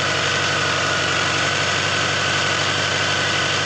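A BMW K100 motorcycle engine idles steadily up close, a continuous throbbing drone with a fine even pulse and no speech.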